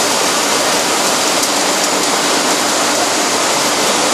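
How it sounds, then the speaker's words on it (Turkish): Olives flow along a line and are washed with clean water in an olive oil factory, producing a loud, constant rushing and splashing of water with no break. "Zeytinlerimiz akıyor şu anda, temiz suyla yıkanıyorlar."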